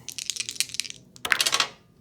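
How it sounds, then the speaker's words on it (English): Dice dropped while playing the APBA baseball board game, two quick bursts of bright clattering and rattling, close and fairly loud, separated by a short pause. "I'm dropping dice left and right"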